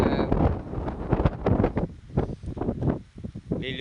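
Strong wind in Batangas buffets the microphone with a loud, continuous roar and rumbling gusts that rise and fall, with no voices.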